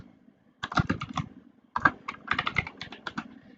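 Fingers clatter across a computer keyboard while a Git commit message is typed, two bursts of rapid, uneven keystrokes separated by a short pause, close and clear with no talking.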